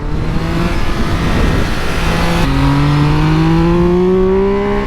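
A Triumph Speed Triple RX motorcycle engine revs hard and loud close up, its pitch climbing steadily through the gears in one sustained, aggressive run with no talking.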